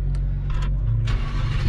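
A Lamborghini Huracán Performante engine fires up, a low rumble that swells after a brief crank into a loud, steady idle, close by and with no talking.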